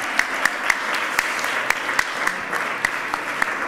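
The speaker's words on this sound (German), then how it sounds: "Du darfst klatschen." Audience applause at a research award ceremony, a steady wash of many hands clapping throughout, with louder individual claps standing out at regular points.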